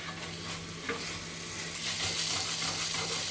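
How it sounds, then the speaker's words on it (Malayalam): Onion-based masala for Kashmiri green chicken curry sautéing in oil in a pan, a steady sizzle with stirring scrapes, one sharp clink near the start and the frying growing brighter and louder toward the end. "നമുക്കിത് നല്ലപോലെ വഴറ്റാം. എണ്ണ തെളിയുന്നത് വരെ വഴറ്റാം."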